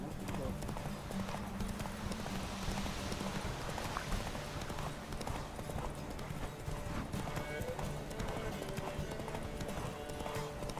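Hooves clatter in a fast, steady galloping rhythm during a horse race in The Witcher 3, with wind and ambient noise behind and someone talking over it.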